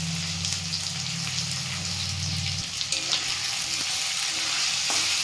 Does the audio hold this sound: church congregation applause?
no